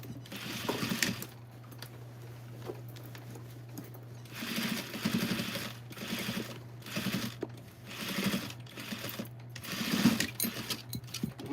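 A sewing machine stitching clothes, running in several short bursts of rapid, even needle clatter separated by pauses, fairly close with a low steady hum underneath.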